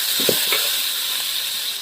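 Tomatoes dropped into a pan of frying onions for a South Indian fish curry give a steady, fairly loud broadband hiss with a few soft plops near the start, continuing evenly throughout without any voices.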